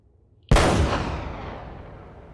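A single loud gunshot or explosive blast in the video game Uncharted: Drake's Fortune hits sharply after a quiet start, then rings out in a long decaying rumble and echo.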